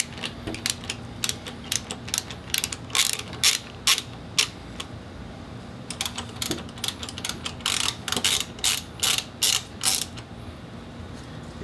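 Ratchet wrench with a 6mm Allen bit loosening the triple tree pinch bolts on a Yamaha FJR1300. Rapid, close clicking comes in bursts with short pauses in between.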